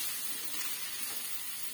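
Chopped tomatoes sizzling and frying in a hot pan while a mushroom almond curry is being cooked, giving a steady, loud crackle throughout with no talking.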